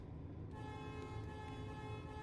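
A train horn sounds in the Train Life video game, a steady sustained honk with stacked tonal harmonics held loud and continuous for a couple of seconds, with no talking over it.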